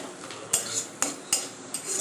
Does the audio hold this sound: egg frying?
yes